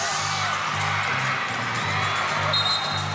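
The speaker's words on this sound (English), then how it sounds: "we have a very noisy crowd here" A noisy crowd at a basketball finals game in an indoor sports complex keeps up a dense, steady roar of cheering and whoops, with a low hum running beneath it.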